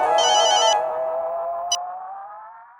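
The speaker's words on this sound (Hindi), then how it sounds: "बॉस का फोन आ गया।" A phone ringtone plays loudly in a sustained melodic electronic tone that gradually fades out over a few seconds, in a scene from the sitcom Taarak Mehta Ka Ooltah Chashmah.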